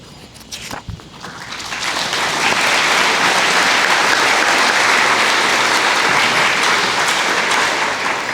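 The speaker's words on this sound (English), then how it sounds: "Please give all of these students another round of applause." Audience at a high school academic awards banquet applauds the students, a steady, dense clapping that swells after the first second and holds loud and full to the end, with a few scattered footsteps near the start.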